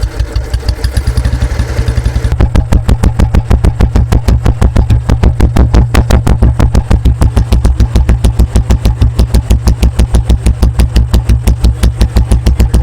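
A 1981 Royal Enfield Bullet motorcycle engine starts and settles into a loud, close thumping idle, each slow, even single-cylinder beat clearly separated in a steady rhythm.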